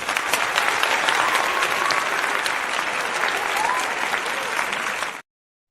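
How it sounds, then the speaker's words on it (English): Loud, dense round of applause from a group during a podcast discussion, continuous and close, cutting off abruptly near the end. "I always give ourselves a round of applause"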